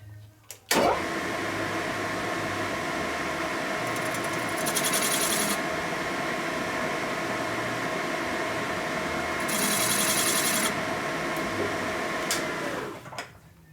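A machine tool cuts a chamfer into a 1990s Evo Sportster 90ci big-bore motor case, a sustained steady whine with mechanical hum, starting abruptly and running about twelve seconds, with two brighter, louder stretches of higher-pitched cutting noise.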